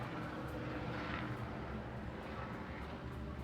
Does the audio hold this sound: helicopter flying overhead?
yes